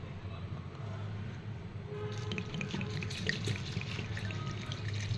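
Water poured from a tap over poha flakes set out to soak for idli-dosa batter, a steady close splashing and trickling that grows busier partway through.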